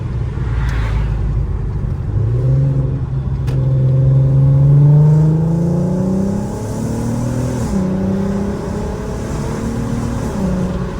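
A VW/Audi car with a Miltech exhaust and new motor mounts accelerates hard with the windows down, its engine note climbing steadily through rising gears with brief shift dips, loud and close from inside the cabin.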